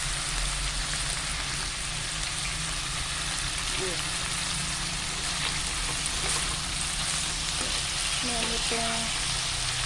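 Catfish frying in a pan gives off a steady, loud sizzle and crackle that fills the whole stretch evenly, with a few faint murmurs in the background.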